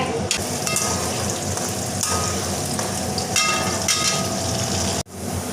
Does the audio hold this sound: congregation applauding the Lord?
no